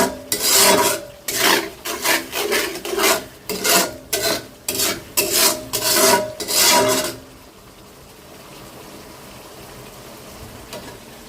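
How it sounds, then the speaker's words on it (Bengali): Spice paste is stir-fried in a pan over lowered heat, heard as a series of loud rhythmic scraping strokes for about seven seconds, then a quiet low sizzle. "তো জালটা কমাই দিয়ে এখন একটু ভালো মতো মশলাটা কষাবো"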